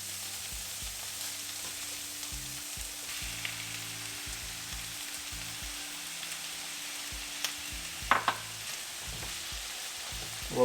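Diced tomato goes into a pan of frying onion and green chili for dal tadka, and a soft, steady sizzle follows under a low rhythmic hum, with a couple of clinks from a utensil near the end.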